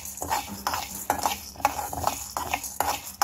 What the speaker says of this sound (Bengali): একদম কিন্তু লো আছে আমি এটাকে ভাজতেছি